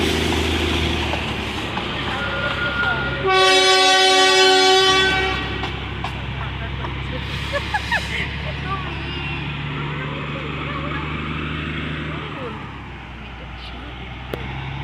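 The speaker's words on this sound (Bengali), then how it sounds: "এখান দিয়ে যেটা দেখছো, এটা হচ্ছে টয় ট্রেন, জঙ্গলের মাঝখান দিয়ে যাচ্ছে" A small toy train passes through forest in Darjeeling, its horn sounding a long steady blast, with rumbling and rattling under people talking and birdsong.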